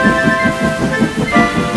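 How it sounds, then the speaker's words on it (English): Heavy rain pours down in a dense, steady, continuous wash of sound, loud and close, with no voices. "The rain continued to pour down."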